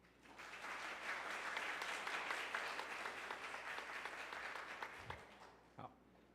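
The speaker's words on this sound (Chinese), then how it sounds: "我们一起鼓掌欢迎。" A church congregation at a Sunday worship service claps to welcome a new preacher at her installation. The applause is a dense, even patter lasting several seconds, then thins out with a couple of closer thumps at the end.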